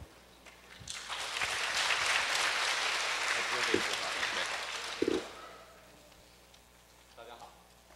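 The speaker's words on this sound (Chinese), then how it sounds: "那请就是大家就是以热烈的掌声欢迎 Anthony" An audience at a COSCUP 2011 tech conference session claps to welcome an Intel speaker, a warm burst of applause swelling for about four seconds before fading, followed by a voice speaking into the microphone.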